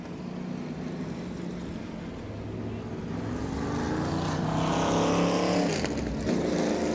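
Sprint cars racing around a dirt oval at the Auburndale Southern Sprint Car Shootout, engines droning steadily then swelling louder as the cars pass close by.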